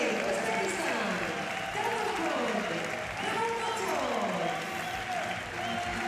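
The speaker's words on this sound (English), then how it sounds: "Well, a warm applause for both men" Warm crowd applause in an arena after bronze medalists are announced at the Paris 2024 Paralympic para judo finals, steady and broad with commentator voices talking over it throughout.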